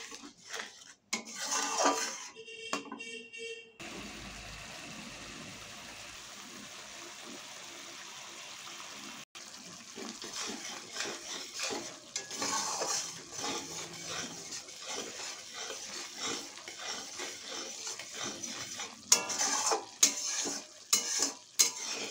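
A spoon stirs prepared spice paste liquid into hog plum in a pan for a Bengali tangra fish curry, with soft scraping and clinking of utensil on metal over a low simmering sizzle, and a burst of rapid clatter at the start.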